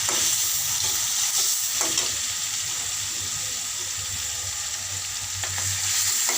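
Onions frying in oil with salt and turmeric give a steady, close, continuous sizzle that hisses evenly throughout, with no voices.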